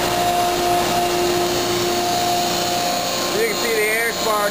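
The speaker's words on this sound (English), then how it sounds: "You can see that the SVE blower is on and running." A soil vapor extraction blower runs steadily on a remediation trailer beside an air sparge system, giving a loud continuous machine roar with a constant hum and faint whistling tones partway through.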